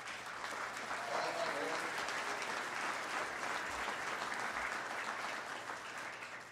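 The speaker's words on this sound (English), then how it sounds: "Give yourselves a round of applause" A crowd at a Seneca Nation gathering applauds in a dense, sustained round of clapping, with some voices mixed in, fading slightly toward the end.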